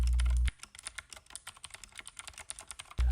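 Rapid, steady keystrokes clack on a Keychron K8 tenkeyless mechanical keyboard, a dense run of close, crisp clicks with no talking.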